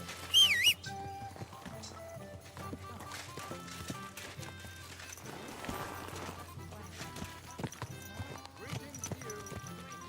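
Rhythmic hoofbeats of galloping horses in the video game Kingdom Come: Deliverance II run steadily beneath game music and ambient sound, with a brief whistle-like tone near the start.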